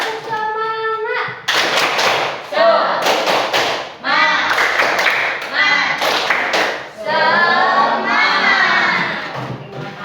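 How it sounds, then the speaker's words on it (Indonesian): A classroom of seated pupils performs a rhythmic spirit clap, bursts of loud sharp claps in patterned groups alternating with children chanting and shouting together, close and energetic throughout. "coba kita tepuk semangat dulu ya biar konsentrasi ya"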